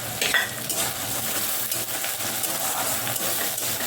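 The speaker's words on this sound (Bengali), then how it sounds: "এই টমেটো কুচিটা দিয়ে দেবো।" Chopped tomato dropping into a hot frying pan for a Bengali tangra fish curry with cauliflower, bori and potato, giving a steady loud sizzle with a brief splatter at the start, close up and with no talking.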